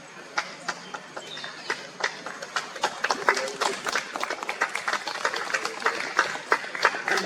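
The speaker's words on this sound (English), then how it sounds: "Give a big hand, please." A Carnatic concert audience applauds violinist Sri Madhav. The clapping starts sparse and builds into a dense patter of distinct hand claps, with a faint murmur underneath.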